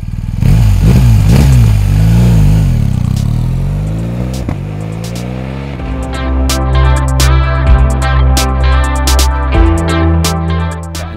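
A loud BMW R 1250 GS boxer twin motorcycle engine (2018) revs up and down close by, then settles into a throbbing idle with clattering mechanical ticks, no voices.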